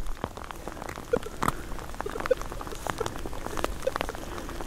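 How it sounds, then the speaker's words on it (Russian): Rain falls steadily outdoors, a dense close patter of drops with scattered sharper taps on a surface, moderately loud and continuous throughout. "Дождь идет."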